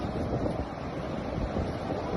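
Sea waves at a beach wash in a steady loud roar, close by with wind buffeting the microphone and no voices.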